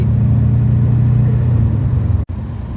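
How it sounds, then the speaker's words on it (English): A Subaru Impreza WRX Classic rally car engine drones steadily and loudly through its induction and exhaust, with a deep, continuous rumble that briefly cuts out near the end before resuming. "The sound on the induction, the sound of the exhaust, a really nice setup."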